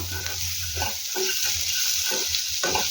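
Ground sesame powder stirred into vegetables frying in a pan, giving repeated scraping strokes over a soft, steady sizzle, close by.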